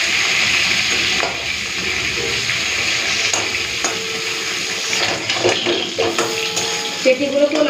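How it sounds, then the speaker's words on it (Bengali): Small mourola fish frying in hot oil in a pan, a steady loud crackling sizzle with occasional clinks and spatula movements near the end, no talk. "এখন আমি মাছগুলো ভেজে নিই।"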